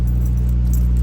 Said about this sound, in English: I don't know why I'm pulling my keys out.